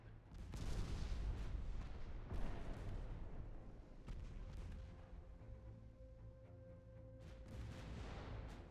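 Warship main guns firing in the naval game Ultimate Admiral Dreadnoughts, deep booming salvos rolling out with heavy low rumble, several distant heavy reports spaced through a continuous roar, fairly faint overall.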